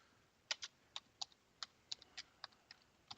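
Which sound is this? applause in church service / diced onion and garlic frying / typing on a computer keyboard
typing on a computer keyboard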